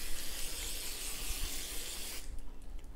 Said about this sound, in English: One last little spray.